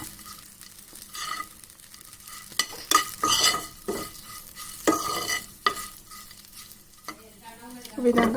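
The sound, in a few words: green chillies frying in a pan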